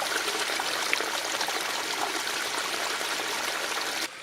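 Water from a squeezed trail water filter runs in a steady, close, trickling stream for about four seconds, then abruptly drops off near the end.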